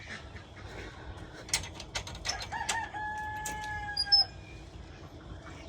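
Chickens let out of their coops at a farmyard, with busy overlapping clucks, a drawn-out rooster crow in the middle and scattered duck-like quacks. The birds are fairly close and no one speaks.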